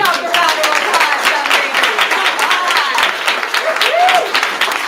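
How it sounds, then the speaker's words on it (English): Brisk applause fills the room at a young writers' awards event, many hands clapping steadily throughout with scattered cheers and voices mixed in. "Give yourself a round of applause."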